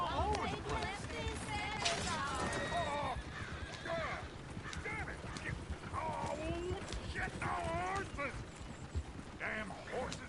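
Galloping hooves clatter continuously with horses neighing and whinnying over them in the video game Red Dead Redemption 2, a busy, dense mix with voices shouting in the background.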